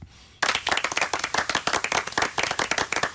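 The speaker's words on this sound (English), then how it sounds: "Round of applause for Nick." An audience bursts into applause after a brief quiet moment, steady clapping from many hands that stays loud and dense to the end.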